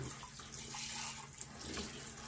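A kitchen tap runs steadily into a sink while dishes are washed, a faint continuous hiss and splash with small clinks, no talking.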